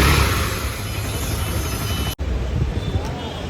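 A Honda CBR 250R motorcycle engine runs after a camshaft and rocker arm replacement, giving a smooth, steady mid-pitched hum without ticking, briefly cut off for an instant before carrying on, heard close up.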